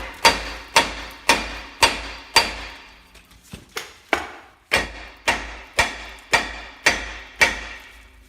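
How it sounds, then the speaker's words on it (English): A 3-pound sledgehammer strikes a Ford Explorer rear brake rotor again and again to shock it loose from hub rust, giving sharp metallic clanks in a steady rhythm with a brief pause of lighter taps midway. "So we're going to smack it here, here, here, kind of all the way around, get it shocked loose from any kind of rust in the hub"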